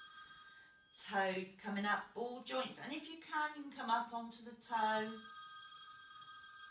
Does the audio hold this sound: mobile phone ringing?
yes